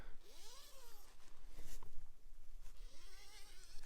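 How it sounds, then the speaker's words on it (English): A zipper on the inner of a two-person tent is drawn open in a few quick, close strokes, with rustling fabric between pulls. "So you can see the full zipper. It opens left and right"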